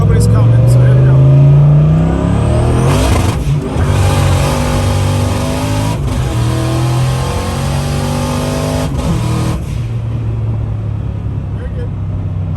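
A Foxbody Mustang pulls hard along a street, its engine climbing in pitch and dropping at each upshift through three gears, loud and close with a little talk in the cabin.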